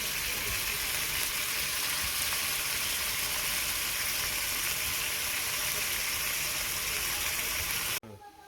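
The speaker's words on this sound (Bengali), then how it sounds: "এখানে পেঁয়াজ আর একটু বাইজে নিলাম তারপর দু মশলা বাকি মশলাটুকু দুটো করে দিলাম" Onions and spices fry in a pan while a masala is prepared for a meat curry. A dense, loud, even sizzle runs steadily for about eight seconds, then cuts off abruptly into quieter background.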